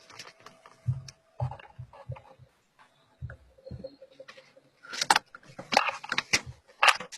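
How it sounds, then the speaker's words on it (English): Papers rustle and shuffle near open microphones on a group training call, with scattered soft handling noises and sharper crinkling bursts toward the end. "I hear people like shuffling papers and stuff."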